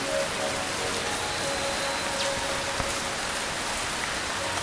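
Steady rain falls in a rainforest, a constant soft hiss of drops on leaves and surfaces with no break, fairly close and even in level, with a faint tone running low beneath it.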